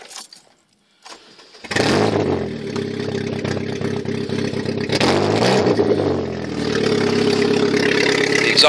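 A 2000 Saturn LS with a swapped 2.2-litre Ecotec engine cranks and catches after a brief silence, then settles into a steady, loud idle with slight rises in revs; exhaust not fully connected.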